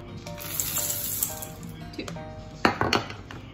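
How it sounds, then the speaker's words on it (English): Chocolate chips tumble into a bowl of cookie dough, giving light clinks and a couple of sharper rattling clatters late on, close and fairly quiet in a home kitchen. "Now you need to add in the chocolate chips."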